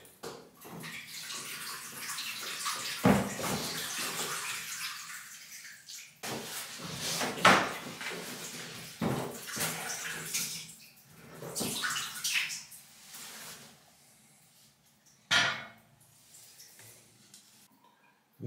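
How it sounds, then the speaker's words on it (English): Water from an old hot water tank drains through a pipe during a 1920s house renovation, a steady low wash of flow with a few sharp knocks and clunks scattered through it, close by with no talking. "So we'll give that 5 minutes and that'll drain the tank out."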